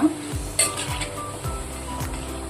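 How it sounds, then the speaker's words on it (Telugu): Taro root pieces rattling and clinking against a frying pan while they fry, with repeated scraping and stirring strokes over a soft sizzle, close and fairly quiet. "చూడండి గలగల మోగుతున్నాయి చూసారా ఇలా మోగాలన్నమాట"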